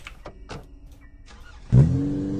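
A car drives in the Granny horror video game, version 7.1: a few soft clicks and thumps come first, then the engine suddenly starts up loud and close and keeps running steadily.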